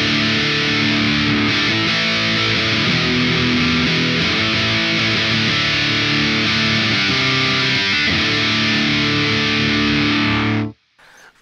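A heavily distorted electric guitar chord through a Pigtone PP-24 English Man distortion pedal rings out thick and sustained for about ten seconds, then cuts off abruptly.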